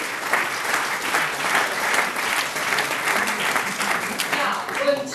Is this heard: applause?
yes